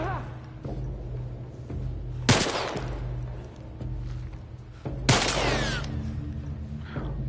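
Gunfire in The Last of Us Part I: two loud bursts of shots stand out over a steady game background, with faint speech-like sounds mixed in.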